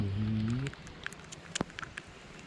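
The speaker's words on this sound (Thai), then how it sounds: "ฝนก็ตกครับท่านผู้ชมฝนตก" Light rain falls during a freshwater fishing trip for snakehead and bass, a faint patter of scattered drops that follows a brief spoken voice at the start.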